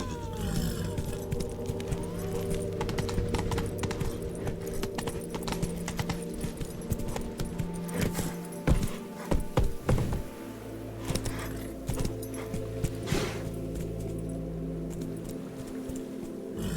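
Hooves of Roach, the horse in The Witcher 3: Blood and Wine, clip-clopping steadily at close range over a continuous game soundscape, with a few heavier thuds midway.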